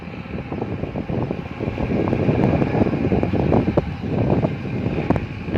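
Wind buffets a microphone high up on a tall structure in a dense, rumbling roar that swells and eases, loud and continuous, with no talk.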